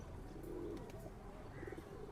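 Imamdin male pigeon cooing faintly among other pigeons over a steady noisy market-like background, soft low calls scattered through.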